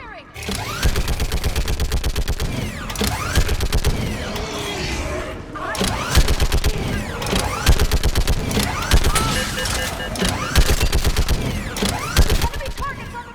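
Mass Effect 3 gunfire: rapid bursts of automatic weapon fire in dense, repeated volleys with metallic mechanical clatter, nearly continuous and loud, with a brief lull midway.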